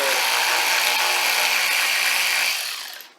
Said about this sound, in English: I got the electric ratchet, just because I don't want to pull out the other stuff.